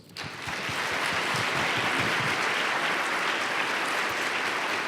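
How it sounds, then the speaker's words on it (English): An audience at a diversity forum welcome session breaks into sustained applause, a steady, fairly distant wash of many hands clapping that swells quickly and holds evenly without speech. "Please join me in a warm round of applause, thanking all of these folks for their service."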